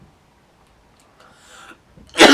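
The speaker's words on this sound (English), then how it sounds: "Really sorry about this cough." One sharp, loud cough bursts out at the end after near silence, with only faint rustling before it.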